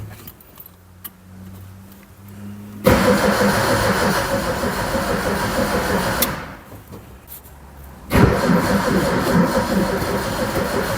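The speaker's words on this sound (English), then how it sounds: "So next thing is really try to spin her over and try to start it." A barn-find Zastava 850 engine cranks in two long bursts of loud, rhythmic churning from the starter, separated by a brief pause, and each burst stops abruptly without the engine catching.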